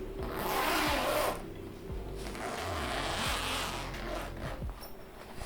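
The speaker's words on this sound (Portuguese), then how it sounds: "eu testei primeiro o zíper" A zipper on the carrying bag of a Concert melodica is drawn open and shut, giving several quick scratchy rasping pulls that stand out close against a steady low hum, with no talking.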